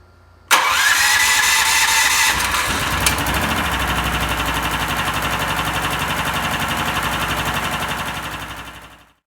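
Engine fitted with an AMR supercharger during an oil test, cranking and starting abruptly, then settling into a loud, steady idle with a fine rhythmic pulse and a high whine before fading out, with no talk.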